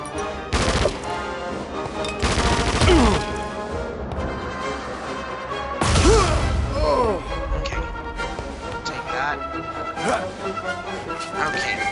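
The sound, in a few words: gunfire in a video game (Emperor's Tomb)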